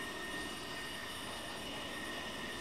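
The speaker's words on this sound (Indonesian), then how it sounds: "Kali ini kita akan menerbangkan pesawat model" A flying A-10 Warthog model airplane gives a steady, even whooshing roar with no break, faint as if passing at a distance.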